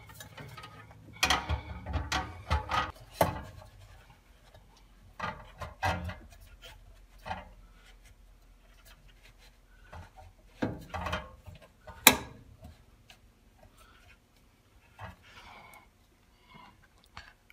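Torx screws are driven back into a Rheem gas water heater after its chamber sensor is replaced, giving scattered bursts of close mechanical ratcheting and clicking with quiet gaps between them.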